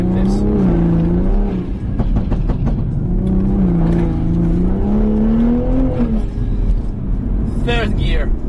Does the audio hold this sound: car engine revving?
yes